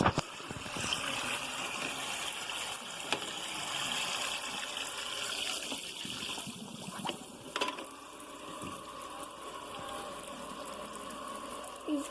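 Tap water runs steadily while a cat is given a bath, a soft continuous splashing and hiss with small shifts in flow, no voices over it.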